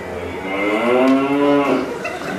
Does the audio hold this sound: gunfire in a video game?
no